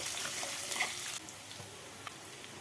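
Curry leaves, dried chillies, chopped garlic, ginger and green chillies fry in hot oil for mango pickle, crackling loudly for about a second before easing into a softer, steady sizzle.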